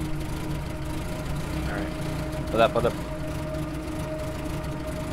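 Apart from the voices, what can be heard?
car engine in the video game DayZ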